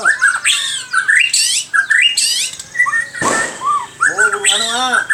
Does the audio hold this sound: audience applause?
no